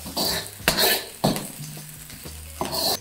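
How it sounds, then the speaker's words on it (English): Shrimp with ginger and Thai chilies fry in a pan, a close sizzle broken by repeated scraping stirs and clinks of utensil against the pan at an uneven rhythm, no talk. "I'm just gonna continue to let this fry."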